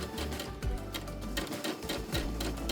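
A sewing machine runs steadily along a quilt seam for a quilt kit, its needle pounding out a fast, even stitching rhythm up close with a low motor hum beneath and no talking.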